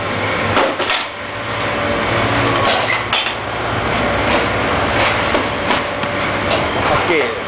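A soil and cement brick making machine runs close by, giving a loud, continuous mechanical rumble scattered with sharp metallic knocks and clanks.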